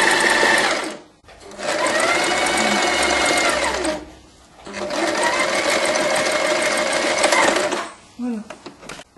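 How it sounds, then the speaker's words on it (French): Sewing machine stitching the side seam of a piped vest, running in two long, loud bursts of steady whirring separated by brief pauses, then stopping with a few short clicks. "on pique la couture du côté"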